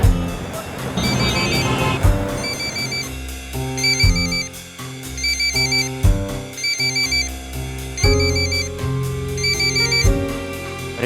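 A mobile phone ringtone plays loudly and steadily for several seconds, a repeating electronic melody in a regular looping rhythm, heard alone with no talk in a Hindi TV crime drama scene.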